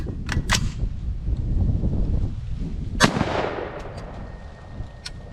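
A rifle shot from a .223 or 300 Blackout firing outdoors: a few sharp cracks early on, then one strong report about midway with a rolling tail of echo, followed by fainter pops amid light wind noise.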